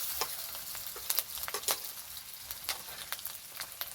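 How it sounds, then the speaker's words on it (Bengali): Ginger and garlic paste fries with onion and capsicum for chili chicken, a steady soft sizzle broken by repeated scraping stirs of a spatula, close and moderately quiet with no voices. "আদা রসুন খুব ভালো করে কষিয়ে নেব।"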